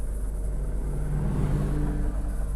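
A car drives along with a steady, close low engine rumble and road noise, the tone swelling slightly as it moves, with no other sounds standing out.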